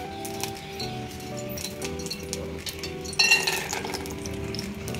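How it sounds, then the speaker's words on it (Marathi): Peanuts frying in a little oil in a kadhai, giving a steady soft sizzle with light metallic clinks and stirring scrapes, brightening with a louder crackle near the end. "आता ह्यात आपण थोडे शेंगदाणे टाकून शेंगदाणे भाजून घेऊया"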